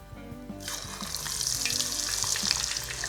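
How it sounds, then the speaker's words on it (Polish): Quiet room sound, then a sudden loud sizzle as diced ginger hits oil at 150 degrees, crackling and spitting steadily to the end. "Olej na 150 i dodajemy nasz pokrojony w kostkę imbir"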